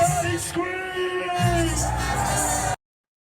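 A hip hop concert crowd yells and whoops in a loud, continuous wash of shouting voices, sustained for a few seconds before cutting off abruptly.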